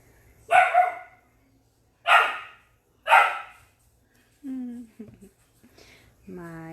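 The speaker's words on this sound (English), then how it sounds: "My puppy is barking at my cat" A playful puppy barks at a cat in a home, giving two-note barks in short bursts separated by pauses, followed by higher whining yips and whimpers near the end.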